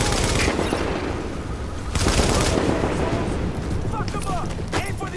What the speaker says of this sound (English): With all that gunfire drawing the Riker's attention